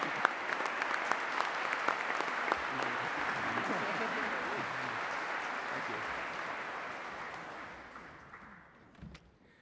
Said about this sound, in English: So shall we give him a special round of applause?